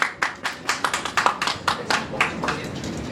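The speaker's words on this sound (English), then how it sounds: "a big round of applause, please, for Attorney JT" Audience at a press conference clapping, sparse and fairly close, with distinct individual hand claps in an uneven rhythm that thins out toward the end.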